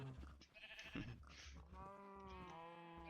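Minecraft sheep bleat repeatedly in a wavering, continuous run, fairly clear and close with no talk over them.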